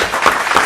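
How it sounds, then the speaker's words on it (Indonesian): A small group of people claps briefly in a short, close patter of applause, with a couple of sharper claps standing out. "Tepuk tangan dong."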